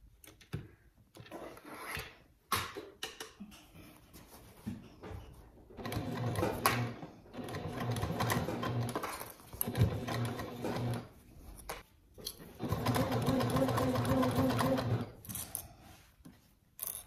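A sewing machine stitches the gusset of a bag in several bursts of rapid mechanical whirring, separated by pauses with small clicks and handling sounds, close and clear.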